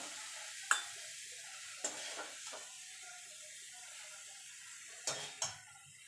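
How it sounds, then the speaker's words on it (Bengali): Banana stem paste is stirred in a wok, a few sharp scraping clicks and knocks of a spatula against the metal spaced through an otherwise quiet stretch, close and moderately loud. "এবার ভালো করে নেড়ে নেবো কারণ কড়ার থেকে ছেড়ে আসতে মানে হয়ে গেছে"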